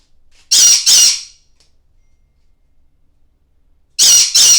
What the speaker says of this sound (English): I apologize for the bird